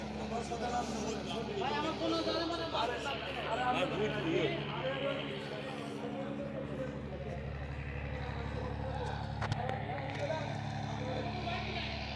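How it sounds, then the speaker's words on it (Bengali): A three-deck river launch pulls away from the dock with a steady low engine rumble and hum under chatter and crowd noise, as people talk nearby. "বন্ধুরা, লঞ্চ ছেড়ে দিছে"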